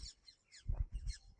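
Birds and parrots at Bidar Fort: scattered high chirps and squawks call out at a moderate distance, with low rumbling thumps close by, all fairly faint.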